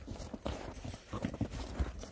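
A ridden horse's hooves clip-clop in an uneven rhythm on the ground, faint and somewhat distant, mixed with low rustling.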